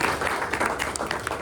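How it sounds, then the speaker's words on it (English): Applause from a luncheon audience honoring sponsors, a steady wash of many hands clapping throughout, moderately loud with a faint voice underneath. "Let's give them a round of applause."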